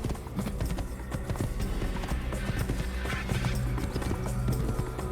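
Horse hooves clip-clop steadily over a busy, dense game soundscape in Assassin's Creed, the rapid irregular footfalls running continuously and fairly close throughout.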